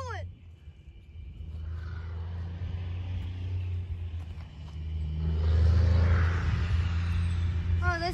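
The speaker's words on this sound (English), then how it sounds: "Got a train coming." A long Norfolk Southern intermodal freight train rolling past, a deep steady rumble with low engine drone that swells louder in the second half, with a horn-like tone and passing road traffic nearby.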